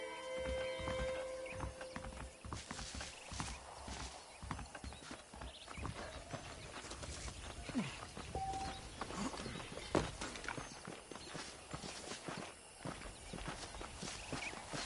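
Steady clip-clop of horse hooves trotting at a quick, even rhythm in the video game Red Dead Redemption, with occasional snorts and a constant background of outdoor ambience.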